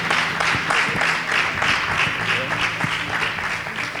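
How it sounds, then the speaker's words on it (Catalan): An audience at a Falles ceremony breaks into sustained applause, a thick steady patter of many hands clapping, close and lively, with some voices mixed in underneath. "De mans del nostre alcalde, un aplaudiment per a Paco,"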